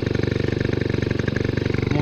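Rebuilt GT10 engine fitted with new electronic ignition, running at a steady, loud, close idle with an even, rapid pulsing putter throughout.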